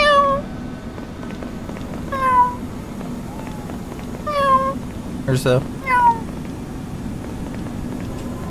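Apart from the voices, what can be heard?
cat meowing in video game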